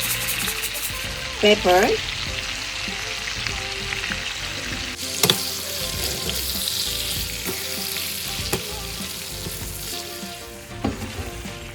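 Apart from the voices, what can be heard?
buttered fresh scallops sizzling, stirred in pan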